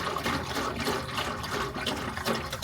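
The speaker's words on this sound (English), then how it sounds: "Fresh water in this small dispenser we find really useful, much better than a bottle or the tap." Water pouring from a small fresh water dispenser inside a van, a soft, steady splashing trickle heard close by and fairly quiet.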